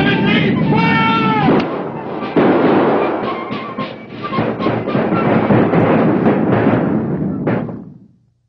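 A volley of musket fire from soldiers in a staged battle, with sharp overlapping cracks and rumbling reports, then a spread of scattered shots and shouting before fading out.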